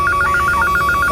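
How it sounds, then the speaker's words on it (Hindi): A landline telephone rings in short, even pulses of a steady electronic tone, close and loud, with no voices. "अभी तुम घर के लैंडलाइन पे फोन करो और जैसे ही कुलदीप उठाए फोन काट देना।"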